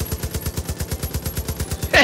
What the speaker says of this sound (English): I've got a chain gun